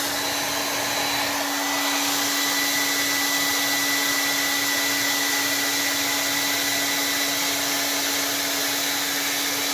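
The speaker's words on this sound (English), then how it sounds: "now we're just going to take a hairdryer to this" A hairdryer blows steadily and loudly at close range, melting wax into a homemade canvas axe sheath, a constant whooshing drone with a strong steady hum throughout and no talking.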